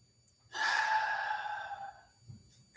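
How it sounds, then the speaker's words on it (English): A single long, deep exhale of breath, airy and close, swelling quickly and then tapering off over about a second and a half during a calm guided spiritual meditation, with a faint soft sound after it. "Take a deep breath."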